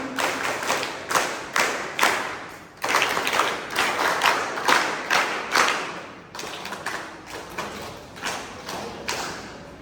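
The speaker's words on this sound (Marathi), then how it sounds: "आपण टाळ्या वाजवून यांचं स्वागत करूया" Audience applause greets a guest at a ceremony closing a lathi-kathi stick-fighting exhibition, with rhythmic bursts of clapping that swell and fade in waves over about ten seconds, with no voices over it.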